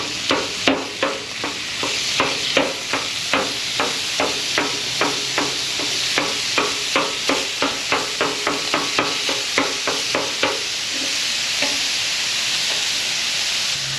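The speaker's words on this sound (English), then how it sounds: "Got a really cool little tool here for chopping meat up" Rapid metallic chopping of 80/20 ground chuck on a hot griddle with a chopping tool, a steady train of sharp scraping taps over a constant sizzle that continues alone at the end.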